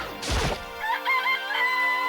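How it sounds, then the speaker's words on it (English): A video-game chicken in Danganronpa: Trigger Happy Havoc gives a loud, close squawk, then a run of rising, warbling clucks and a crowing call that carry on steadily without any talking. "This place even has chickens."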